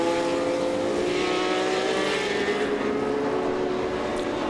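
Vintage race cars, among them a 2.5-liter Porsche 911 and an Alfa Romeo GTA, roar past on track in a loud sustained engine drone whose pitch slides slightly as they go by. No one speaks.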